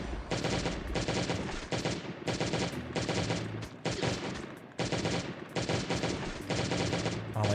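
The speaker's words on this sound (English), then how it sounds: "Guns were made to be used, and I'm using them." Rapid bursts of automatic gunfire in the survival game Last Day on Earth: Survival, loud and close, firing in dense repeated volleys with only brief gaps between them.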